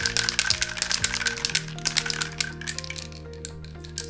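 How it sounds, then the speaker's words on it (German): A belton water-based spray paint can is shaken before priming, its mixing ball rattling in quick, sharp clicks close up, loud at first and thinning out toward the end over a low steady hum. "Und dann schüttle ich die Dose noch eine Minute lang."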